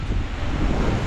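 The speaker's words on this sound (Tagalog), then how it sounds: "Sobrang lakas yung hangin dito." Typhoon wind roars and buffets continuously, a dense rumbling rush with no let-up.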